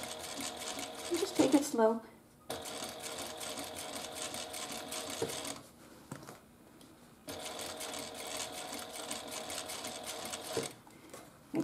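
A sewing machine top stitches a fabric wristlet in steady running bursts, stopping and restarting a couple of times, while someone speaks softly over it.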